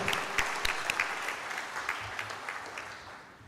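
Steady applause from a room of people at a corporate ceremony, dense clapping that stays fairly even and tapers off slightly toward the end.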